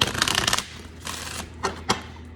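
Tarot cards are shuffled by hand in a few quick riffling bursts with short pauses between, close and fairly loud, without speech.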